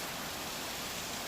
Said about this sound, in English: and then it rains